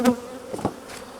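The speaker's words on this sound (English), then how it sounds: "All those bees that have flown out when I shook these frames have started to gather on the floor here" Honeybees buzz steadily up close, a droning hum with a few louder passes as individual insects fly near, while bees shaken from hive frames gather on the floor.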